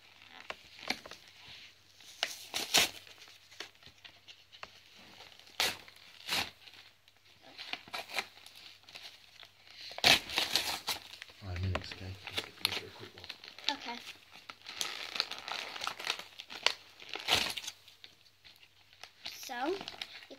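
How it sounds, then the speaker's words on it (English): Plastic toy packaging sealed with sellotape being ripped and torn open, with repeated crinkling, crackling and sharp tearing bursts close by, mixed with a voice talking throughout. "So let's rip this open."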